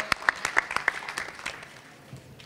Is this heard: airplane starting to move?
no